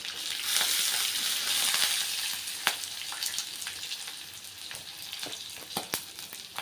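Peanuts fry in hot oil in a pan for ragi upma, giving a steady, close crackling sizzle with sharp pops and spatters scattered throughout, slightly louder at the start.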